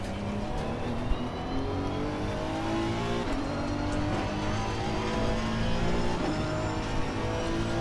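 A race car in the video game Assetto Corsa Competizione screams through its gears, the engine note steadily climbing and shifting, with other cars audible around it and no talking.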